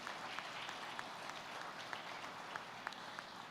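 A church congregation applauding, a fairly quiet, even wash of many clapping hands with a few distinct claps popping out, heard from some distance.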